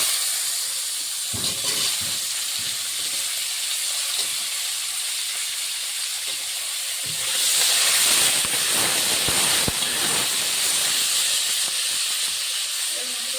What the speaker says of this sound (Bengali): এখানে একটা তেজপাতা ওটা গোটা জিরে দিয়েছি ফোড়নটা হয়ে গেছে